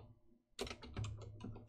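Rapid, close keyboard typing on a computer while entering code, a quick run of clicking keystrokes that starts after a brief quiet moment.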